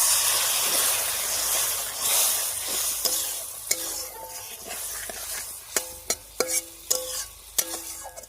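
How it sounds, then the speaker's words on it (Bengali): Spice paste with salt and turmeric frying in a pan for a Bengali snakehead fish curry, with a loud, steady sizzle and hiss, then several sharp spatula clinks against the pan near the end. "এবার মশলা বাটা জল দিয়ে বেশ কিছুক্ষণ ঢাকা দিয়ে কষিয়ে নেব।"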